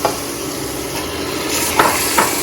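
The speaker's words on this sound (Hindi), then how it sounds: "जब आपका मसाला भुन जाए तो आपने इसमें गोश्त शामिल कर देना।" Meat added to fried masala for an Urdu/Hindi daal gosht (chana dal with meat), giving a loud continuous sizzle with stirring scrapes and a couple of sharper clinks near the end, with no talking.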